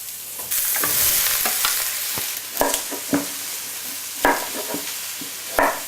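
Cashew mushrooms fry in oil in a pan with a steady bright sizzle, while a utensil stirs and scrapes them in irregular knocks and clatters, close up and with no talking.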